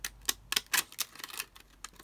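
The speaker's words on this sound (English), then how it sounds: "just cut across with my ziggy zaggy scissors again" Sharp, clicky snips from zigzag scissors cutting thin stiff vellum, a rapid irregular series of close crunches with no voices.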